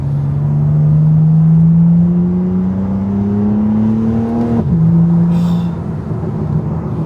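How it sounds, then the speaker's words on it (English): A BMW G80 M3 pulls hard in second gear under load, a loud, close engine drone climbing steadily in pitch for several seconds, then dipping abruptly before settling into a lower hum; no voices. "So we're in 2nd gear. We're gonna load it up."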